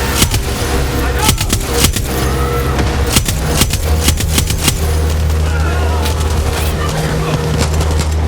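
Rapid bursts of Far Cry 6 gunfire crackle and pop over a constant low rumble, shots coming in quick clusters throughout.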